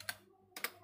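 A computer keyboard is tapped twice, with two soft keystrokes about half a second apart over a low electrical hum.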